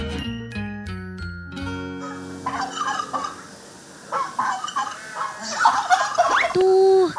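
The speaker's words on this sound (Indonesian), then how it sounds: "memasang suara kalkun" After a few musical tones, a turkey gobbles in several rapid, warbling bursts, played back loudly through a speaker, ending in a longer call.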